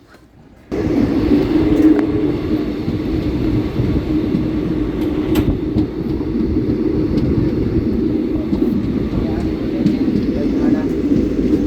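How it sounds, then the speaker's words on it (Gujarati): Steady rumble and rattle of a passenger train in motion, heard from inside a carriage as it travels from Ribda toward Junagadh, continuous and fairly loud after a quiet start, with faint voices in the background. "તો મિત્રો અત્યારે અમે ટ્રેનમાં બેસી ગયા છીએ રીબડાથી"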